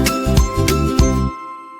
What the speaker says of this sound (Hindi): साइकिल चली, घंटी बजाया